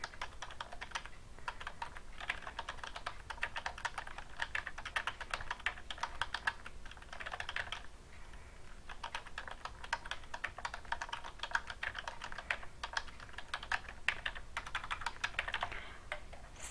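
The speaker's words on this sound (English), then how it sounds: "I'll type in the entire description." Fingers type on a computer keyboard in quick, quiet bursts of clicking keystrokes, with short pauses between runs, nearby and continuous over about seventeen seconds.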